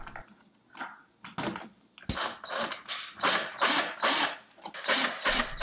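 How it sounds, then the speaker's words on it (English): A screwdriver or drill drives screws into a Nest thermostat bracket and cover, close up, in a series of short bursts that grow longer and louder with brief pauses between them. "Get the bracket on first and then screw them both down at the same time."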